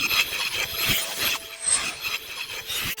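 Airy, swishing whooshes with scraping, grainy texture sweep past one after another, busy and close, with no voices: crystals flying past in a Final Fantasy VII sound effect.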